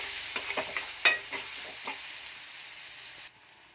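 Onion sizzles in oil with mustard seeds and curry leaves in a pan, a close crackling fry punctuated by a handful of sharp stirring scrapes and pops early on, then cut off abruptly, with no talk.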